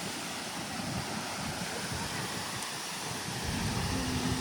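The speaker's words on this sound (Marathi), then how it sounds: "वॉटरफॉल चांगला मोठा आहे" A large waterfall in Goa roars as a steady, broad wash of rushing water, loud and unbroken throughout, with no voices over it.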